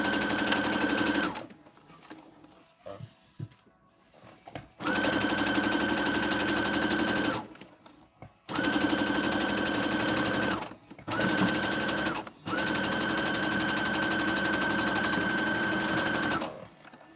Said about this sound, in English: So don't forget to sew this all down.